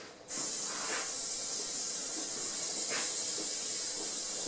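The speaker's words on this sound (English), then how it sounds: "Make sure there's plenty of spray on that bit." Hairspray hisses from an aerosol can onto hair being set into punk liberty spikes, starting abruptly and running as one loud, steady close-up spray with slight surges, no talking.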